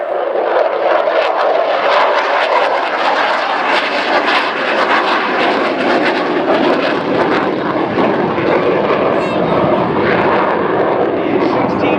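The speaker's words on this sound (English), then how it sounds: "The F-16 Fighting Falcon, with its afterburner, will get an incredible kick in the pants." F-16 Fighting Falcon jet roaring past at an air show with afterburner, a loud sustained broadband blast filling the whole stretch, with a voice commentating over it.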